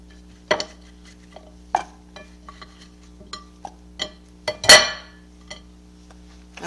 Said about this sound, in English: These are the yams going in the small pan.